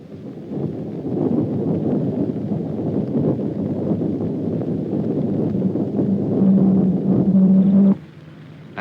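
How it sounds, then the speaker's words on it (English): Radar audio return from a moving Jeep on an experimental Army radar set, a continuous loud low roar with a rough, churning texture and a brief steadier hum near the end, then a sudden cutoff. "A Jeep makes this sound."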